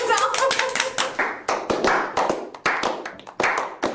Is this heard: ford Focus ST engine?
no